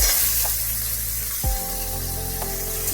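Tempering spices with chilli sizzle loudly in a hot pan as they are stirred, a dense steady hiss with a couple of soft knocks from the utensil, no talk.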